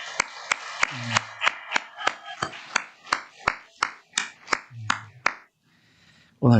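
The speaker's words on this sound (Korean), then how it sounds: "먼저 우리 환영의 박수 한번 할까요?" A church congregation gives welcoming applause, heard as a steady series of crisp, distinct claps at an even pace that stop abruptly, with a brief voice underneath near the start and another at the very end.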